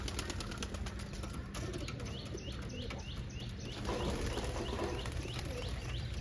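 Pigeons flutter and coo close by, wings flapping in short bursts over a steady outdoor hum, with faint chirps in the background.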